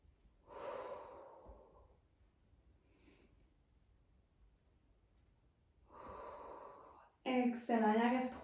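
Breathing out during a Pilates glute workout: a soft, airy exhale rises and fades, a quiet pause follows, then a second breath comes, and a voice speaks close by at the end.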